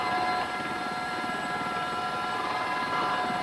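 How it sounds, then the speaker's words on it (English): An army training helicopter flying on patrol near enemy lines, its rotor and turbine making a steady, loud, continuous drone with a rhythmic chop and a high whine, heard without any speech. "After 40 minutes on patrol, Andy has guided his helicopter within 2 miles of the Ormidian lines"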